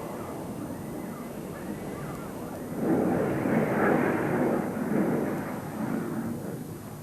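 An F-16 fighter jet at an air show, a broad distant roar that swells louder midway and lingers as it passes overhead, with no talking.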